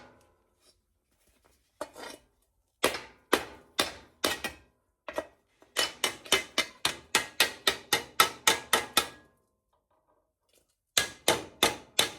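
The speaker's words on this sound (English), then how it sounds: "I'm going to hammer that out on my vise." Sharp metallic hammer blows ring out in bursts as a 1968 VW Beetle headlight bucket is hammered on a vise: a few spaced strikes, then a fast steady run of about a dozen, followed by a final short cluster.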